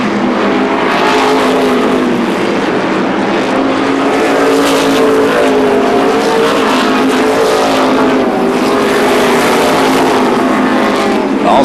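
NASCAR Modified race cars roar past three wide into turn three at Beech Ridge Motor Speedway, making a loud, continuous engine drone that swells and overlaps for the whole stretch.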